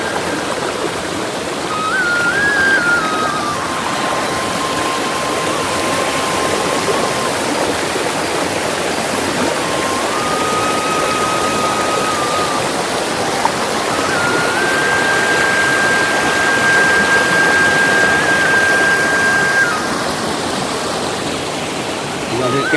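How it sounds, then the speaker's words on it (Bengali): A hill waterfall in Belpahari, Jhargram, during the monsoon, a loud, steady rushing roar of falling water that stays constant throughout, with a faint tonal whine drifting above it. "এই হলো পাহাড়ি ঝর্ণা,"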